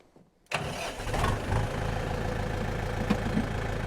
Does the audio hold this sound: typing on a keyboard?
no